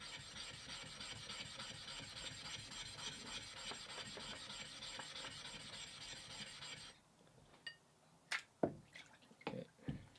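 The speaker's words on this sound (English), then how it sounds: "I'm just gonna rub the Nagara stone on the dirty areas," A Nagura stone is rubbed over the dirty areas of a whetstone, giving a continuous gritty rasping scrape for about seven seconds, then a few scattered soft taps and wet scuffs.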